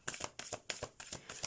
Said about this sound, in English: While I'm shuffling the cards for your reading